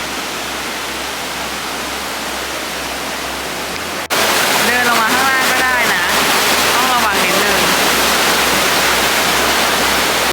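A steady, loud rush of falling water from Brúarfoss waterfall in Iceland fills the whole clip, with a voice talking over the roar partway through.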